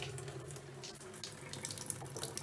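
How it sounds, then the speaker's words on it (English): A kitchen tap runs again after its isolating valve is reopened, giving a steady, quiet hiss of flowing water close by with no talk over it. "the water is back running again"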